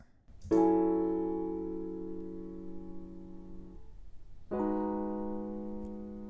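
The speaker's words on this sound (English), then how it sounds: "So the grand piano sound kind of overshadows the electric piano" Two sustained keyboard chords sound in turn in Ableton, a bright grand piano tone layered over a mellower electric piano, each decaying slowly with no talking.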